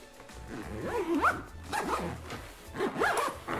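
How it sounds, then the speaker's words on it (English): A Black Ember Shadow backpack crammed with four six-packs of cans is zipped shut in several tugged, ratcheting zipper pulls with short pauses between them, close and fairly loud. "zip it up"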